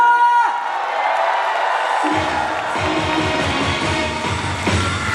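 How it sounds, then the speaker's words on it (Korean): An audience at an outdoor city concert bursts into loud cheering, whoops and applause at the end of a singer's medley, a dense, continuous roar. "박수와 함성!"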